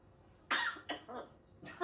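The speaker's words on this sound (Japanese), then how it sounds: "なんだその咳は。" A few short, raspy coughs burst out close by in a quiet indoor room, two or three separate hacks spaced a moment apart.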